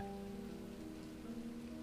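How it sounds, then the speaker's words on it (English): Light rain falls steadily in a soft, even hiss, faint and continuous throughout, with a low hum underneath and no voices. "A light rain began to fall."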